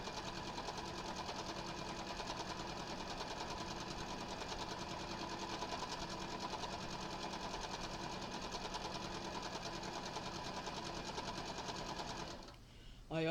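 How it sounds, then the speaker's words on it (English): A sewing machine runs a continuous seam for quilt piecing without pausing, its steady rapid needle chatter loud and even throughout, cutting off near the end. "then I can sew one continuous seam without stopping."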